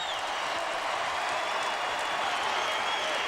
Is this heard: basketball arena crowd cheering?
yes